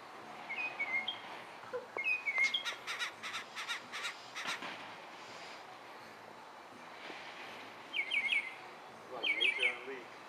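Birds chirp and caw outdoors in short bursts, some crow-like calls among higher tweets, fairly close, with quiet gaps between the calls.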